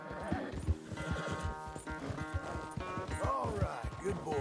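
Steady clip-clop of horse hooves in the video game Red Dead Redemption 2, with a whinny near the end, over faint voices and background music.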